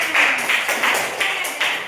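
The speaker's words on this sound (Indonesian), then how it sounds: "Tepuk tangan." A classroom of students clapping together, a brief burst of rhythmic, evenly spaced claps close by with little talk.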